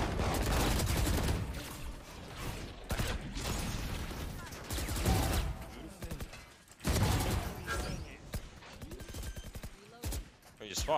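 Shotgun blasts in the Valorant shooter game, with several loud bursts scattered across the clip alongside other gunfire and game effects, while a player talks over the action.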